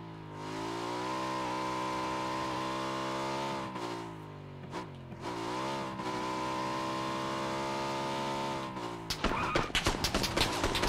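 Motorbike engine in the shooter game PUBG, a steady droning hum with shifting pitch as it rides along, then a burst of sharp rapid clatter near the end.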